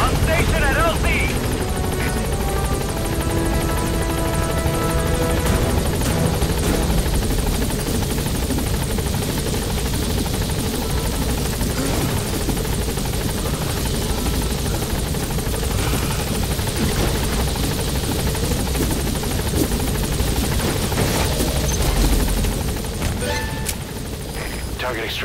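A helicopter arrives at a landing zone in Metal Gear Solid V: The Phantom Pain. Its rotor roar is loud, dense and steady for the whole stretch, with voices talking over it.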